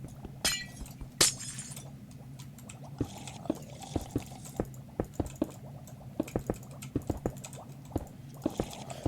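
Glass blocks being broken in a video game, a run of sharp clinking and shattering cracks repeated at an uneven pace, the strongest bursts early, over a faint background hum.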